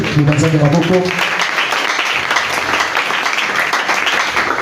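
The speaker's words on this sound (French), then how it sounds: "Est-ce qu'on peut acclamer la parole de Dieu?" A church congregation breaking into applause and cheering after a sermon, a loud wash of clapping that follows a brief spoken line and carries on steadily to the end.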